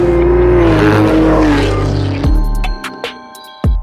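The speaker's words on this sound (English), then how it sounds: "The 2018 Chevrolet Camaro ZL1" A 2018 Chevrolet Camaro ZL1 V8 roars loud and close, its engine note rising and then cutting off into sharp pops and crackles before a final burst of revving at the end.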